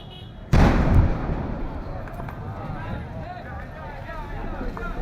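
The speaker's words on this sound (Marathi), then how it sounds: "रस्त्याच्या मधोमध हा ट्रक दिसतोय आणि या ठिकाणी आग लागली आणि आगीनंतर या सिलेंडरचा स्फोट झालेला आहे।" A gas cylinder bursts with a single loud, sudden blast after a truck fire in Dharavi, followed by a long rumbling roar and crowd noise as people talk and shout nearby.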